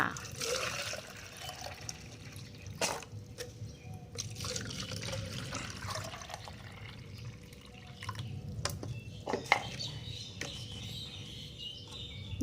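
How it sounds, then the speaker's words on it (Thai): Water poured into a pot holding an ornamental plant that wicks moisture up through fabric, a soft continuous trickle with small drips and splashes, fairly close and alone without talk. "เดี๋ยวเราใส่ใส่น้ำลงเนี่ยแบบนี้เลย แล้วเพื่อนก็ใส่น้ำลงไปค่ะ"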